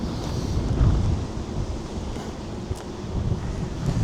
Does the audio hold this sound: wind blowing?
yes